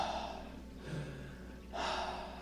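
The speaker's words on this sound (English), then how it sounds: "like the deep inhalations and exhalations" Deep, labored breathing with a slow, heavy inhalation and exhalation rising twice over a low steady hum, close and breathy, with no speech.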